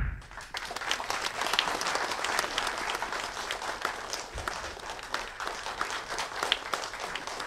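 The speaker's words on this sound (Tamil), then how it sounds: "இப்போ உங்கள் எல்லாரோடைய சார்பாக உங்களுடைய கைத்தட்டல்களோட திரு எஸ் ராமகிருஷ்ணன் அவர்களை மேடைக்கு அழைக்கிறேன்." An audience claps steadily at a short film screening at Sathyam Cinemas, welcoming a speaker onto the stage, with dense applause filling the room throughout.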